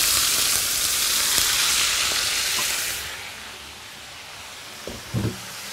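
Meat cubes frying in oil give a loud, dense sizzle that eases to a softer steady crackle, with a couple of knocking clatters near the end.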